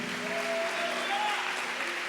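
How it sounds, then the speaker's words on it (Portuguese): A church congregation applauds during a Portuguese-language sermon, a steady wash of clapping that fills the whole stretch, with a sustained tone or voice running faintly underneath. "Aplauda mais forte"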